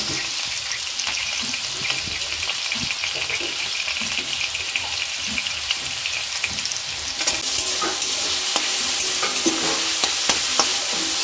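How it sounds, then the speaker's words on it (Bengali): Carrots and beans fry in hot white oil, producing a dense, continuous sizzle close by, broken by frequent scraping and clinking of stirring in the pan. "দিয়ে দেবো গাজর আর বিনস, এটা একটু আগে নেড়ে নিয়ে তারপর ওটা দেবো"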